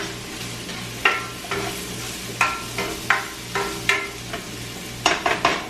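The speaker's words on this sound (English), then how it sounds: "So while that is sauteing" Burrito filling sautés in a pan on a hot plate, a steady low sizzle broken by about nine sharp scrapes and clacks of a utensil stirring, with a quick cluster of them near the end.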